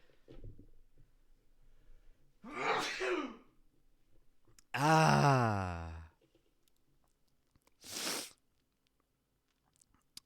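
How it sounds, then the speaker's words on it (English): A single sharp sneeze with a drawn-in breath before it, then a short breathy sound afterward, heard close up in a quiet room. "Oh, that was a good sneeze."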